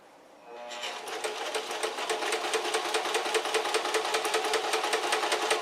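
A sewing machine stitching fabric for a pair of shorts starts up and runs steadily, a fast even mechanical chatter that is close and loud with no voices over it.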